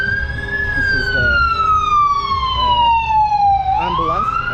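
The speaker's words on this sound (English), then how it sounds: "you have a Star of David on the ambulance" An ambulance marked with a Star of David passes on the Mount of Olives, its siren wailing in long, slow falling and rising sweeps, loud and close, over street traffic noise.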